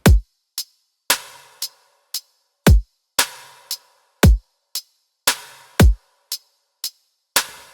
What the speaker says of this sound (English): The drums by themselves, they sound like this.